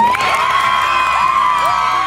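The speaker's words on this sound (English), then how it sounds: "Reese's entire fourth grade class showed up to cheer her on" A crowd of fourth-grade schoolchildren cheers and whoops loudly and continuously for a classmate competing at the Unstoppable Games, with shrill yells rising over the dense roar.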